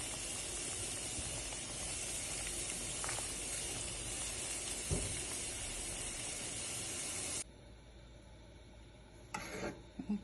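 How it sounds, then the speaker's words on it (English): A steady hiss of boiling water fills the pot, with occasional soft pops and bubbles, then drops to a quieter simmer with a brief burst near the end. "So the water is boiling"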